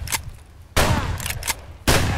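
Gunfire from the boss Sturman in a video game, heard as three loud bursts of rapid shots separated by short pauses, close and harsh.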